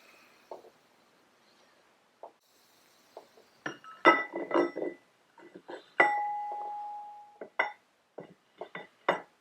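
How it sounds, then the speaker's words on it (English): An old Hickey Sidewinder winch is reassembled as a large metal gear is fitted into its aluminum housing, giving a series of sharp metallic clinks, taps and one ringing tone, loud and close with quiet pauses between. "I'm going to go ahead and install my large gear that goes up here."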